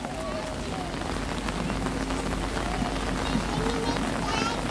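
Light rain falls steadily in an outdoor resort setting at Walt Disney World, a soft continuous patter with scattered faint voices in the background.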